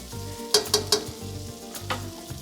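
Sausage sizzles while browning in a soup pot, with several sharp scraping chops of a utensil breaking it into small pieces over a steady low frying hiss.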